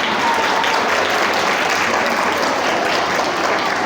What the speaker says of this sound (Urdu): جو نہیں سن رہے ہیں وہ زور سے تالیاں بجائیں